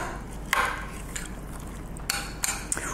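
Muesli stirred in a bowl, with a handful of scattered clinks and scrapes, one near the start and a small cluster toward the end, fairly quiet and close.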